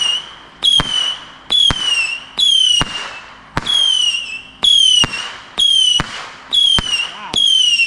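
Fireworks set off in a garage crackle in a rapid series of sharp bursts, each with a bright whistling sizzle, repeating about a dozen times at a steady pace, loud and close.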